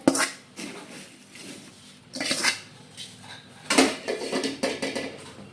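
Fried chivda ingredients being tossed with masala in a metal vessel, a series of scraping, clattering spoon-and-pan strokes coming in irregular bursts, close and fairly loud, with no talk.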